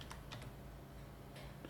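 Quick keystrokes on a computer keyboard while a domain name is entered, a few scattered clicks in short bursts over a steady low background hum.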